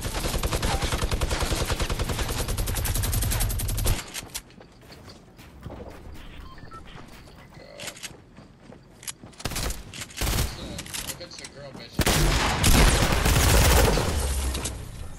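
Rapid gunfire crackles in an online shooter match, with dense bursts of automatic shots at the start and again near the end and scattered single shots and quieter action between.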